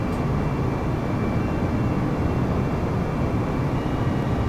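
Jet airliner engines roar steadily in a flight simulator as the aircraft takes off, a broad, constant rumble holding at even loudness throughout with no talking.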